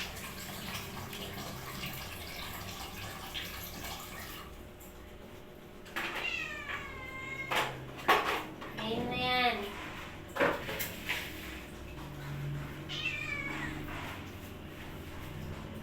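A cat begging for food gives several clear, drawn-out meows in a row, close and fairly loud, over a quiet indoor background.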